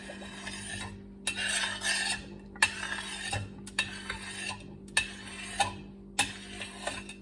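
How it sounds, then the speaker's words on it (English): Scrapings from a pan cleaned with vinegar and baking soda are dumped into a strainer: a series of separate metallic scrapes and clatters, each a second or less, over a low steady hum, close by with no talk. "Just gonna dump that in my strainer"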